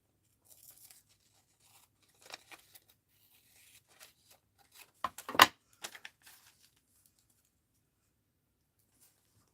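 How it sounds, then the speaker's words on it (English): Paper for an art journal being trimmed with scissors, a handful of quiet snips and a short crisp cutting burst with soft rustling between, close and alone with no talk. "I guess we'll trim it up a little here."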